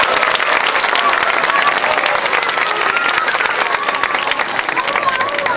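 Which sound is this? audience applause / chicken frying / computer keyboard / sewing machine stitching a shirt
audience applause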